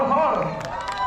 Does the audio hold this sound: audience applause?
yes